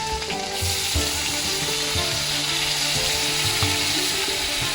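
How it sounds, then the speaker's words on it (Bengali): Onion paste frying in a pan with cloves and a whole dried chilli, a steady close sizzle with faint stirring scrapes, for prawn malai curry. "ভাজা ভাজা ভাজা পেঁয়াজ বাটা"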